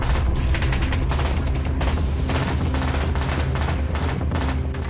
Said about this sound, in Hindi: फायरिंग शुरू हुई।